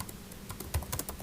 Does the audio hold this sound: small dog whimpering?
no